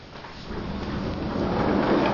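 Rain falling outdoors in the morning after an overnight downpour, a steady broadband hiss that swells gradually louder with faint low rumbling underneath.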